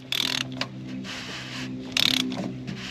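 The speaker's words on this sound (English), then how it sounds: "I just put my wrench on there." A wrench ratchets the plastic fuel filter cap on a 2022 Chevy 2500 with the 6.6 L Duramax. Two short bursts of rapid clicking ring out close and clear, with quiet handling noises between them.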